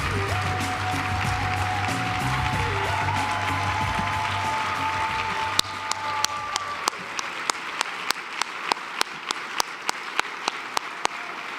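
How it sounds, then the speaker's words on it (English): A large audience applauds at a national leadership awards lunch: loud, dense clapping for several seconds that thins into a scattered run of individual claps, close and distinct, toward the end. "They deserve all that applause and more"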